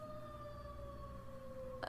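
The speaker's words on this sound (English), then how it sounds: "Not a wolf. It's an ambulance or something on the street." A distant ambulance siren on a street, a faint, steady, slowly falling wail that holds throughout over low background hum, with no talking.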